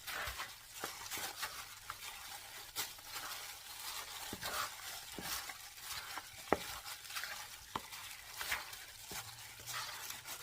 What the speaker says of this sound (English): Now we're going to put our glove on and mix it all together.